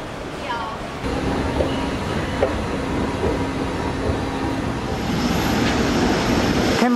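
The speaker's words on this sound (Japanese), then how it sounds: "ちょうどフライングホヌが離陸するのかな、これ" An ANA Flying Honu Airbus A380 takes off from Narita Airport, heard from an observation deck as a steady, broad jet roar that builds slightly and stays at a distance, with faint voices in the background.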